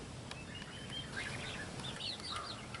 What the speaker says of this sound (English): As far as these birds here go, I'm going to keep the turkeys.